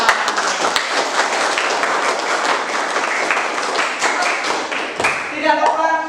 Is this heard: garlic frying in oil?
no